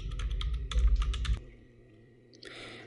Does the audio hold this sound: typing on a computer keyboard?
yes